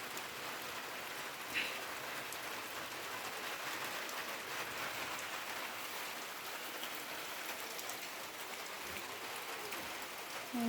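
Rain falls steadily, a dense, even hiss that continues without pause throughout.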